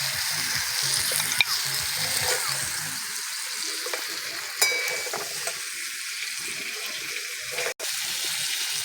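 Chicken pieces sizzling in a little oil in a wok for a yogurt chicken dish, a steady hissing fry with occasional clinks and a brief sharp knock near the end.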